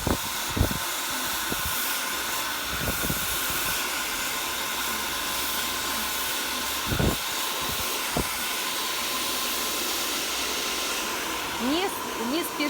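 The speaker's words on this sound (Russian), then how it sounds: "Фен обычно держится параллельно той зоны, которую сушим" A hair dryer blows steadily and close throughout a layered cascade haircut on medium-length thick hair, its broad airy hiss running continuously with faint handling knocks and brief bumps over the roar.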